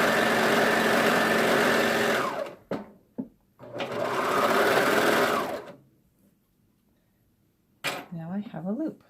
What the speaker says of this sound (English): I'm going to serge it just so it's a circle